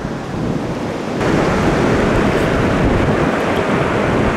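North Sea surf rolls and crashes in a broad, loud roar that swells after the first second and holds steady, with wind buffeting the microphone.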